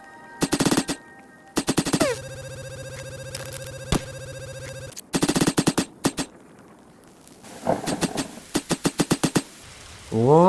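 Rapid bursts of automatic gunfire from video game guns in a survival game set in a forest, with several sharp rattling volleys separated by pauses, plus a sustained electronic ringing tone in between.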